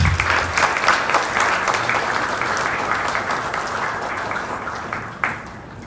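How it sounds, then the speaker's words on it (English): Sustained round of applause from the audience at a Nairobi ceremony as an award is received on a minister's behalf, dense steady clapping throughout with a brief louder burst near the end before it thins. "A round of applause, please."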